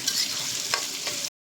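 Onions frying in hot oil with whole spices like cardamom, cinnamon and cloves while being stirred in a pan, a close, steady sizzle with a couple of scraping stir strokes, then abrupt silence.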